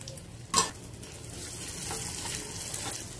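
Crushed garlic cloves dropped into hot tempering oil with mustard seeds, cumin, dried red chillies and asafoeteria, a close steady sizzle with a sharp clink of a utensil near the start and faint stirring scrapes.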